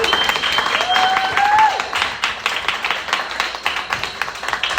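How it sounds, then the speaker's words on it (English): Comedy club audience applauding a comedian taking the stage, a dense burst of clapping that swells and then tapers off over several seconds, with a few voices underneath. "Round of applause, please."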